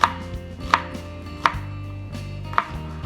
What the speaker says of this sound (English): every time I chop onions, I always end up crying.